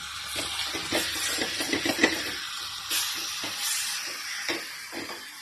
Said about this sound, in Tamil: பாருங்க, மீன் வறுத்துன்னு இருக்கோங்க.